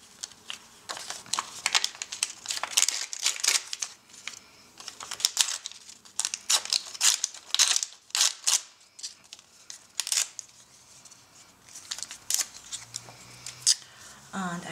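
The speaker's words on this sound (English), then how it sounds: "I'm having some foil printed or foil embossed vellum that I want to use." Foil-embossed vellum paper being handled for a mixed media canvas, giving repeated crisp crinkles and rustles in close, irregular bursts with no talking.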